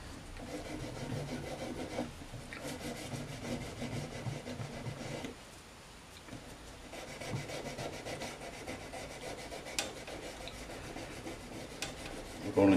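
Fine 1000 grit sandpaper rubbing over the frets of a vintage Sakai/Audition electric guitar, a steady close scratchy rasp with a brief pause midway before the rubbing resumes.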